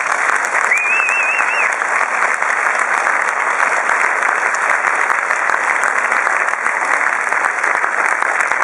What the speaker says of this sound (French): je veux que vous passiez un tonnerre d'applaudissements pour Antoine.